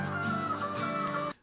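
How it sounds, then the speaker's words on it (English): An auto-tuned rooster cluck sampled in a song, a steady pitched, buzzy tone lasting just over a second before cutting off abruptly, fairly quiet and with no talk over it. "Did he sample a rooster clucking?"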